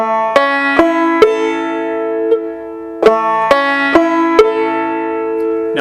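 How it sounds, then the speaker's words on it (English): Round peak banjo picking: a slow pull-off on the second string with downstrokes across the third and first, bright plucked notes landing in uneven pairs with ringing sustain between them, close and clear with no talk. "I'm pulling off my second string and I'm doing a downstroke on my third and first strings."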